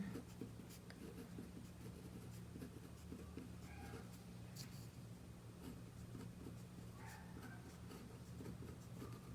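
Quiet scratching of a pen writing a math function on paper, short irregular strokes over a low steady hum in a calm room.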